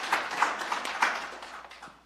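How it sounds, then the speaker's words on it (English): Conference audience clapping, faint and fairly sparse, with scattered sharp claps in a loose rhythm that thin out over two seconds, no speech over it. "Can we give a round of applause?"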